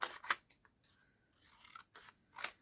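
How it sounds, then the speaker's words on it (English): Scissors snipping through paper to trim a paper figure's coat in a craft project, a few crisp close cuts separated by quiet gaps, with faint rustling between. "I'm going to have to cut your coat down"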